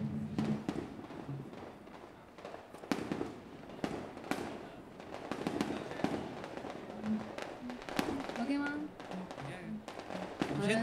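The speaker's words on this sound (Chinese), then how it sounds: "先等那个鞭炮声炸完，我们再拆的" Firecrackers exploding outdoors on a smoky street during a live music gathering, a rapid irregular string of sharp bangs and crackles, fairly distant and faint, with people talking underneath.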